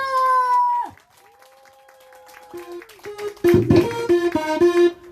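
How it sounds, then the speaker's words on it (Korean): Outdoor night concert crowd claps and cheers along after an electronic, pitched musical passage, rhythmic clapping and shouts rising loudly in the final seconds. "어, 박수 함성!"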